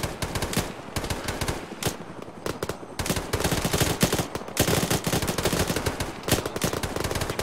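Rapid, dense gunfire in a military video game, with sustained automatic bursts and overlapping shots, loud and continuous throughout.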